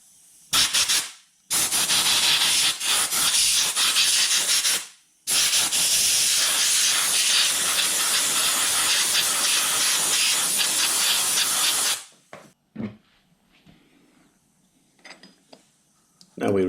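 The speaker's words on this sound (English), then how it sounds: "I'm going to finish off with some brake cleaner and some compressed air." Brake cleaner spray and compressed air blast onto the contact breaker points of a Matchless G3L WD motorcycle in a workshop, loud sustained hissing bursts with short gaps, then quiet clinks and faint handling.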